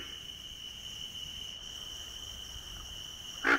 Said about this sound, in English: Its single grunt can be heard in the background of a chorus of cricket frogs.